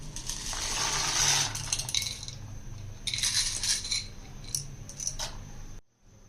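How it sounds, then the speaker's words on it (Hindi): Dry macaroni pasta is poured into a pot while making chicken macaroni. The pieces rattle and patter in a hard, clattering stream that comes in several bursts, close and fairly loud, then stops abruptly. "अब इसके अंदर हम डालेंगे मकरोनीस।"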